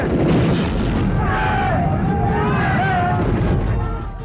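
Gunfire and battle noise in a Marathi war film about a Maratha battalion: a dense, loud, continuous barrage with faint whistling tones drifting over it throughout.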